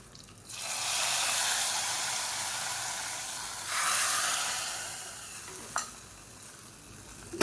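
A garlic and curry leaf tempering hits chayote tomato kadaiyal with a sudden loud sizzle that hisses steadily, surges again midway, then fades after a single sharp clink.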